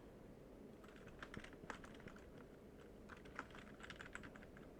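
Code is typed on a computer keyboard while building a basic HTML/CSS/JS notepad. Quiet, rapid keystroke clicks run through the clip over a steady background hiss, with no voices.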